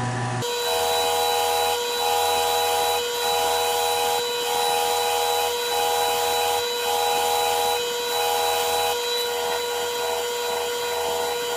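A pen blank spins on a lathe while being buffed with white diamond jeweler's rouge, giving a steady, loud whirring hum with a rubbing hiss that pulses in brief regular dips, no voices.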